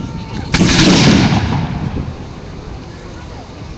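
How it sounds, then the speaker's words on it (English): A volley of rifles fired by soldiers at an outdoor armed forces show in a Cardiff park, heard as one loud sharp crack followed by a rolling echo that decays over a couple of seconds. "And they're firing."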